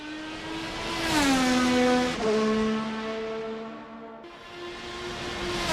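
A race car in a racing video game laps the Japan GP circuit, its engine tone climbing steadily through the gears with clear upshift drops, loud and unbroken with no voices.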